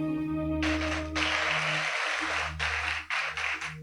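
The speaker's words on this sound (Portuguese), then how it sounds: "Alguém consegue dar um aplauso a Jesus?" A church congregation applauds during a sermon, a sustained wash of clapping under a steady low hum that stops and resumes in broken bursts.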